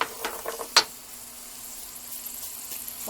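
Carrots, celery and onions cooking in a soup pot over medium heat, a soft steady sizzle with a sharp clack from stirring near the start.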